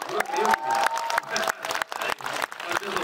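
Applause from a cinema audience at a live movie talk event, a lively burst of many hands with some cheering, pulsing in waves and fairly close throughout.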